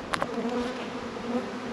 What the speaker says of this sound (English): There is a bee with pollen on my GoPro.